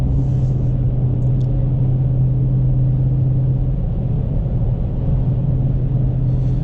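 A 2020 Dodge Scat Pack with a 392 Hemi drives along, its engine a steady, loud low rumble inside the cabin with no breaks or revving.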